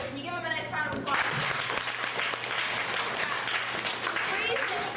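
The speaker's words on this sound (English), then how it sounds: "Can you give him a nice round of applause?" An audience at a live stage show breaks into a steady round of applause, many hands clapping densely for several seconds. A brief voice sounds just before it starts and a low steady hum runs underneath.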